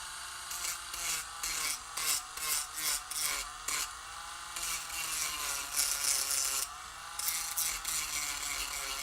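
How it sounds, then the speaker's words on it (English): Hand sanding across the top of a 3D-printed part to knock off burrs, a steady rasping rub in repeated short strokes with brief pauses, close and fairly loud with no talking. "you don't want to sand too much on a 3D print"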